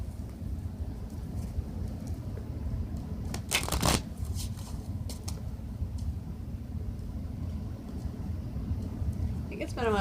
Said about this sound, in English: Just going to shuffle these.